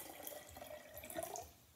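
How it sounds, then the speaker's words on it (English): Water poured into a glass jar, a quiet continuous trickling and splashing that swells briefly toward the end. "Now watch what happens as we add water"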